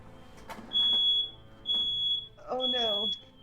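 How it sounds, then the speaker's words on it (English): A household smoke alarm beeps in three long, piercing tones with short gaps between them, loud and close, while a person talks briefly before and during the beeping. "that's my fire alarm. That's the smoke alarm."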